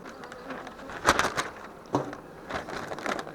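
A honey bee swarm buzzes around a hive close by, with a soft, uneven drone and a few louder passes as bees fly near, amid faint rustling and no talk.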